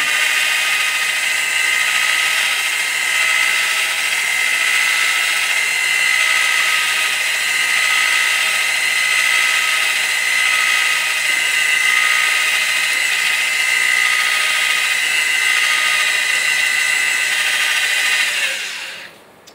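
A drill fitted with a mixer paddle whirs steadily and loudly, stirring a clear concrete coating for nearly twenty seconds before spinning down abruptly at the end, with no talk.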